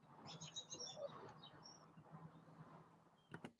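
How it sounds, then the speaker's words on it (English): Small birds chirp and tweet in short bright phrases on a morning outdoors, moderately close, with a few sharp clicks near the end and a low steady hum underneath. "they sure got some lovely birds at the Crack Shack"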